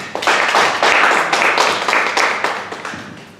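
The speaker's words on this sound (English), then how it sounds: "So just give yourselves a round of applause." Audience members at a business networking meeting clap for themselves, with close, distinct handclaps forming short swelling bursts that rise and taper repeatedly before fading out.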